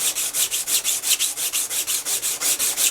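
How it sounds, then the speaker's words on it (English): Rhythmic back-and-forth bevel sanding of wood with worn sandpaper, about six strokes per second, close and steady with no talking. "a little bevel sanding"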